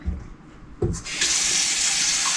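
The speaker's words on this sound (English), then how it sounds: "I just fill it with room temperature water." Room-temperature tap water runs into a plain bowl, a steady loud hissing gush after a brief clunk of the faucet opening, close and continuous with no talk.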